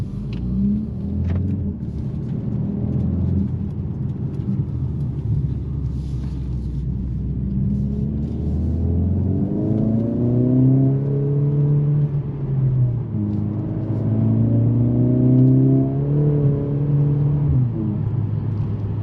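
A 2024 Mercedes-AMG CLA 45 S Coupe engine rumbles low, then revs up in rising sweeps as it pulls away, dipping between gears; steady and close throughout.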